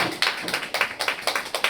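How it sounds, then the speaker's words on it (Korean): A few people clap at a local culture symposium, sparse separate claps in a loose uneven rhythm, close and fairly quiet. "우리 김철규 우리 의장님한테도 큰 성원의 박수 한번 부탁드리겠습니다"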